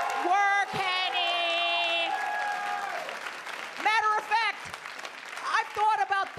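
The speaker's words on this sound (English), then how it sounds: "Clap it up." Audience at a live stand-up comedy show at Gotham Comedy bursts into loud applause with cheers, while a voice talks over the clapping and then carries on once it thins out.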